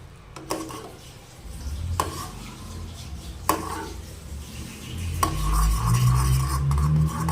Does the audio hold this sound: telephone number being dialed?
no